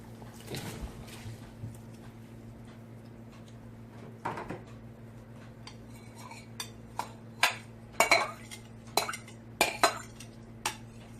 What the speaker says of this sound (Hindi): ये पानी यखनी हमारी उबल रही है। इसमें हम चावल ऐड कर देंगे।